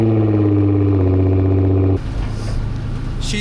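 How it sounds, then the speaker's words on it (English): A Porsche GT4RS with a Boost Logic exhaust drones loudly at a steady idle, then the tone drops and roughens as the engine note shifts near the end. "I want you guys to hear this exhaust."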